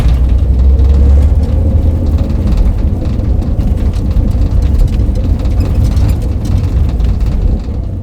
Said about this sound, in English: This sound is called driving with windows open interior perspective.